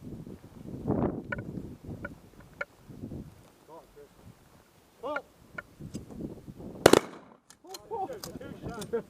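Shotguns fire in a video game, with a few sharp, loud blasts scattered among quieter pops while players chatter over them.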